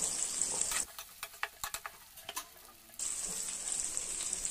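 Vegetables such as carrots, beans and peas sizzle in a pan with tomato and onion for a quick veg kurma, a steady frying hiss broken by a stretch of scraping, clattering stirring strokes.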